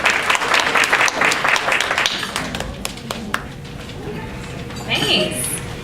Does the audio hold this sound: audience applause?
yes